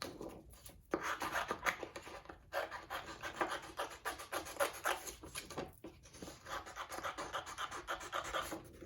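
Scissors cutting paper circles for a children's craft, a quiet, close run of scratchy snips and rustling paper with short pauses between cuts and no talking.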